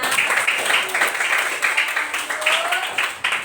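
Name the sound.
applause, everyone clapping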